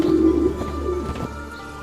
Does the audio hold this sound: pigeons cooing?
yes